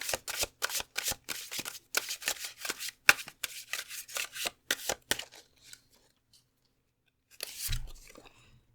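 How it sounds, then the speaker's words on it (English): Tarot cards are shuffled in a fast run of crisp, close card flicks for about five seconds, then go quiet. A single soft thump follows near the end. "Okay, let's draw your tarot cards."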